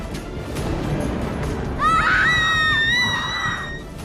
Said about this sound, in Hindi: मैंने चीख सुनी।